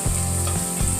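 Food frying in oil in a cooking pot for Haitian rice with mushrooms and meat, a loud, continuous close-up sizzle with a low bubbling hum underneath.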